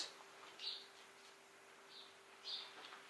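Faint, sparse bird chirps sound in a quiet room in Cairo's City of the Dead, a few short, high calls spaced apart over a low steady hum.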